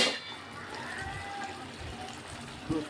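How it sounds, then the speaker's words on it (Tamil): Chicken cumin gravy simmering and coming to a boil in a covered pot, giving a steady close bubbling, watery hiss with soft gurgles throughout and a small knock near the end. "ஓகே கொதி வந்துருச்சு."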